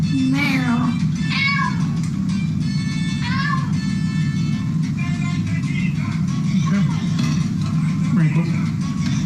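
A cat meows a few times in a kitchen, its short rising cries sitting over a steady low hum and background talk.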